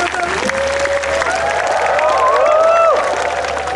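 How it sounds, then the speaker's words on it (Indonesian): A congregation claps at a crusade worship service in a sports hall, loud continuous applause with scattered cheering and tonal music or voices sliding beneath. "Kita boleh beri tepuk tangan buat Tuhan."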